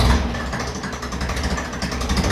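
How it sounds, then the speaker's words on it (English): A 1954 Ferguson TEF 20 diesel tractor engine cranks and runs close by, a loud, dense, continuous chugging rumble with no pauses. "We'll start the engine."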